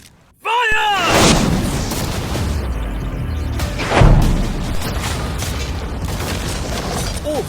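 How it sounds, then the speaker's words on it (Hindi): Loud booming cannon fire aimed at a yacht erupts after a short silence and a few whistling sounds, followed by rumbling crashes and a second heavy blast with debris noise. "अब हम तुम्हारी नई यॉट पर कैनन्स को शूट करने वाले हैं"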